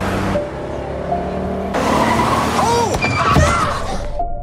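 Car interior during a sudden brake as another car swerves into the lane: a steady road rumble, then a surge of engine and tire noise with a short screech, voices talking over it.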